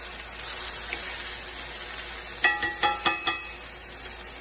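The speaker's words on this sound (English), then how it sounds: "basting your steak a little bit. So I got a little bit of butter, a little garlic, a little thyme" A sous vide filet mignon finishing in a pan with butter, garlic and thyme, a soft steady sizzle joined by a short run of five sharp spoon-basting splashes near the end.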